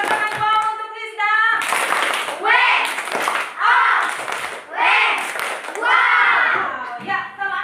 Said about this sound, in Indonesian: Ya, tepuk tangan untuk Lisda.